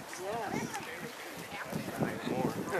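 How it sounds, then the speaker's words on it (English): Wind blows steadily outdoors beside cold water at Deer Cove, a loud, continuous rushing and buffeting close to the microphone, with voices talking underneath. "The wind doesn't help either."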